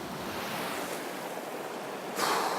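A small set of river rapids rushes in a steady broadband wash close by, with a brief louder surge near the end; no voices.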